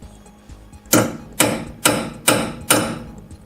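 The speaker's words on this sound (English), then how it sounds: "Big old hammer, center punch." Five loud, sharp hammer strikes on a center punch in an even rhythm, close up, each ringing briefly before the next, during a brake duct install on a 2011 Subaru Impreza STi.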